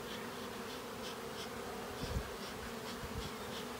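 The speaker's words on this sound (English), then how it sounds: "We have a swarm and a proper deep hive." Honeybee swarm being smoked and coaxed down into a deep hive, a steady close insect buzz with soft pulses of individual bees passing near, no talk over it.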